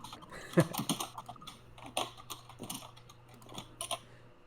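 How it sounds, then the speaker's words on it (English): Someone types on a computer keyboard during an online voice chat, giving irregular bursts of sharp clicky keystrokes, close and fairly loud, over a low steady hum with no talking. "Your keyboard isn't angry enough, BM."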